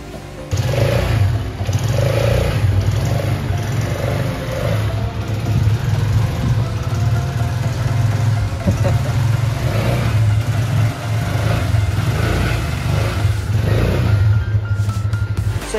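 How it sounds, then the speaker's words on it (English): A repaired motorcycle engine runs steadily at close range, a continuous low rumble with slight fluctuations in revs and a faint high whine above it. "The bike is good and running again."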